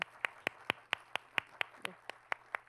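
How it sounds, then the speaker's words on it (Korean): Sparse, evenly spaced claps from a small audience at a Korean conference session on youth social innovation, a dozen sharp hand claps over a low steady hum with no talking. "정말 수고 많으셨다고 박수 좀 부탁드리겠습니다."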